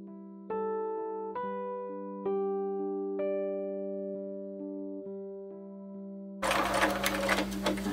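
A sewing machine slowly stitches a fabric seam on a small sewn baby ball, giving a steady hum with a clear mechanical clack at each stitch, then a brief louder burst of noise at the end.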